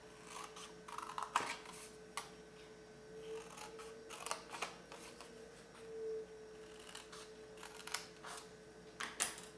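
Scissors snipping along the score lines of a small paper bonbon box, several quiet crisp cuts and rustles scattered unevenly, close by with no one speaking.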